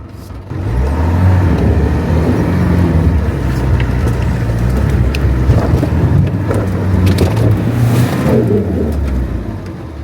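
Off-road car engine growling steadily while reversing slowly down a steep hill, loud and close throughout, with low rumbling and occasional crunching from the terrain beneath the tires.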